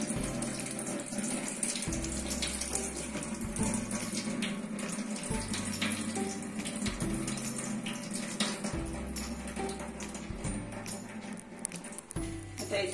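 Water drained from washed poha (flattened rice) in a kitchen, a steady running, splashing water sound close by with repeated low pulses, no speech.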